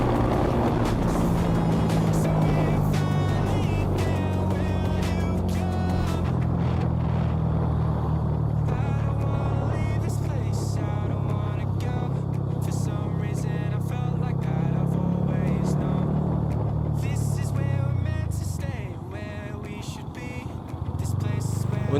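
Yamaha R15 V3 motorcycle on Motul 3100 Gold 15W-50 oil, its engine held at high RPM in a loud, sustained buzzing drone that dips briefly near the end, with someone talking over it.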